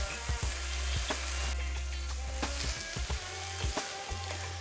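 Carrot halwa fries in ghee in a wok, a steady close sizzle broken by repeated scraping and knocking strokes of a spoon against the metal, with no talking.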